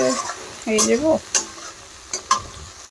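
Spices with salt and turmeric stir-frying in hot oil, giving a steady close sizzle broken by a few sharp scrapes of a spoon against the pan, while a voice talks over it.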